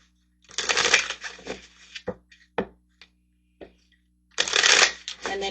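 Tarot cards shuffled by hand in two loud, dense riffling bursts at the start and end, with a few sharp separate card taps and slaps in between; close and clear, with no talking.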